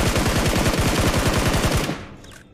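A Scar-L rifle in BGMI fires a fast, even automatic burst of about twenty sharp, loud, close shots, then stops abruptly as the echo fades.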